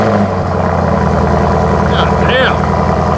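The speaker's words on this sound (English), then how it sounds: "The thing I love about these muscle cars that you have these remote start." A 2023 Chevrolet Camaro ZL1 muscle car running after a remote start, a loud steady low engine rumble with no clear start-up surge, under brief voices.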